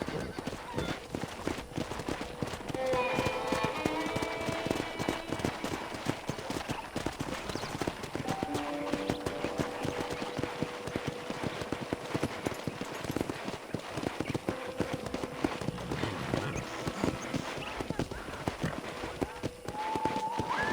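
Steady clip-clop of horse hooves at a walking pace in the video game Red Dead Redemption Remastered, with faint background music and occasional voices underneath.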